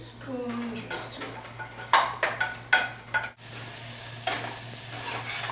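Onions cook in a pan over a steady background sizzle, with a spoon scraping and knocking against the pan in several close, uneven strokes; a low constant hum runs beneath and a voice speaks briefly early on.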